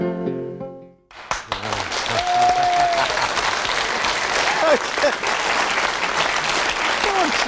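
A studio audience on an Irish television show breaks into loud, sustained applause and cheering after a brief musical ending, the clapping dense and continuous throughout, with occasional whistles and shouts rising above it.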